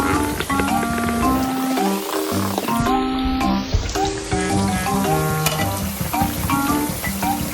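A snack frying in hot oil, turned and dunked with a paddle: a loud, continuous close sizzle with bubbling crackle and occasional knocks of the paddle against the pan.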